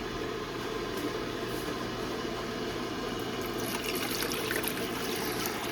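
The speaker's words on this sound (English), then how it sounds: "so we're gonna do 3 cups of water." Steady stream of water pouring continuously, three cups for churro batter, a full, rushing splash that stays constant throughout with no voices.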